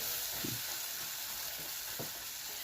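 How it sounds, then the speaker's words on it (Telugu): Potatoes fry in a pan for an aloo and green bean curry, a soft continuous sizzle with a couple of faint stirring knocks, fairly quiet and without speech. "దుంపలు కొంచెం వేయించాలి, ఎందుకంటే కొంచెం హార్డ్ కదా, అంత వేగం ఉడికిపోదు."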